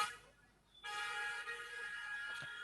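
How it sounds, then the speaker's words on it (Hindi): Vehicle horns on a road outside sound faint and distant, a sustained tonal honk entering after a brief lull and holding steady, with a fainter second toot near the end. "खाली रोड पे लोग हॉर्न मारते हुए चल रहे हैं"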